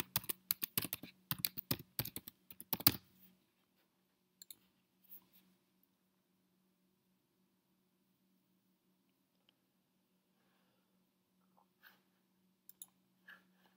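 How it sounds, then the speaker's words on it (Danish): A code is entered on a computer keyboard: a fast, loud run of close clicking keystrokes for about three seconds, then only occasional isolated taps over a steady low hum. "Men ellers så skriver du din kode ind."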